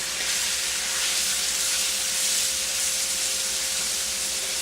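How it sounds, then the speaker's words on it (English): Chopped onions hitting crisp bacon in a hot pan, a loud continuous hiss and sizzle that holds evenly throughout. "So now we're going to add 1 cup of chopped onions, and we're going to cook that until they're translucent."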